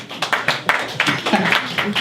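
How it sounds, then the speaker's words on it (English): A comedy club audience at a live stand-up show claps in scattered, sparse bursts with a few distinct hand claps. Murmured voices sit under the clapping. "Clap for yourselves."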